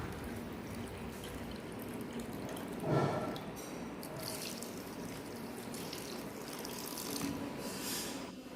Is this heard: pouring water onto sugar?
yes